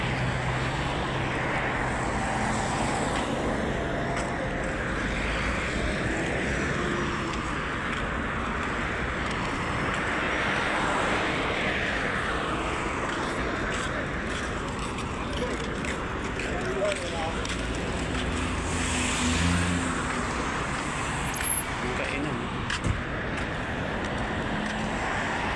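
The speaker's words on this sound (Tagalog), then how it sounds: "Tawid na tayo guys ha, medyo maraming sasakyan." Busy road traffic at night, with many vehicles streaming past close by in a steady, loud roar. A voice talks over the noise as someone prepares to cross the street near an alley.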